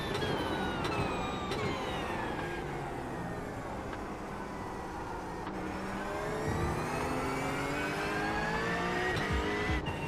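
A Porsche 911 GT3 races at the Nürburgring in the rain in iRacing, its engine climbing through the revs, dropping on each gearshift and climbing again, loud and close with no talking.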